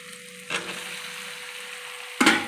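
Young jackfruit dropped into spiced masala frying in oil sets off a sharp sizzle burst, then a steady hiss, and a second loud crackling surge near the end.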